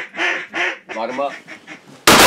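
A flock of teal ducks on a duck hunt, with several quick honking quacks coming close and loud in a burst, then a sudden sharp blast at the end.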